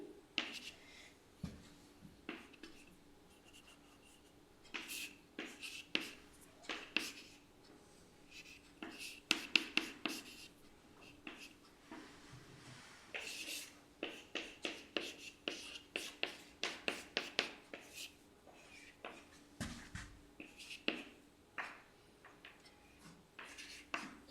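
Chalk or marker strokes on a board during a mathematics lecture on quiver BPS algebras, heard as a long run of quick, close, scratchy taps and scrapes in uneven bursts, almost entirely without talk.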